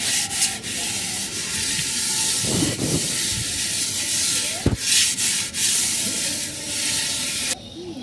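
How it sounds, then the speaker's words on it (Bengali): Hands rub ash onto the outside of a cooking pot in a village kitchen, a continuous coarse scraping and rubbing close by, with a few sharper knocks mixed in. "এইখান থেকে সবসময় ছাই নিয়ে তারপরে পাতিলের গায়ে লাগাই দিই"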